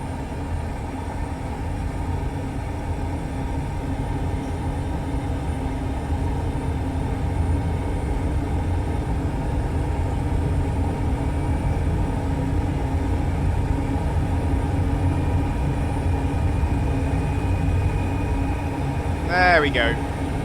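A propeller aircraft engine at takeoff throttle in Microsoft Flight Simulator gives a steady, loud droning roar that holds evenly for the whole stretch.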